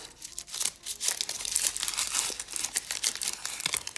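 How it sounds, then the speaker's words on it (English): Supermarket paper crumpled by hand for collage texture gives a close, continuous crackle and crinkle lasting several seconds, with no talk over it. "I will crumple it up, because I do love this extra texture."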